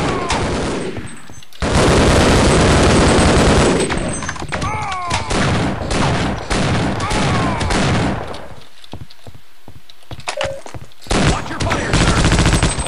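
Rapid bursts of machine gun fire in the video game Half-Life: Opposing Force, loud and close, with dense rattling volleys separated by short pauses and game sounds between them.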